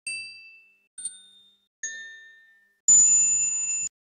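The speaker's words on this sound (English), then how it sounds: "We didn't do that before we created these desk bell dings" Three short synthetic desk bell dings ring out one after another, each clear and decaying, followed by a longer, brighter ring with more shimmer, all clean and close with silence between strikes.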